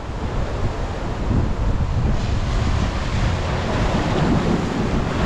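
Sea waves surge continuously against a damaged seafront at Boa Viagem beach in Recife, a dense, steady roar of surf mixed with wind buffeting the microphone and no voices.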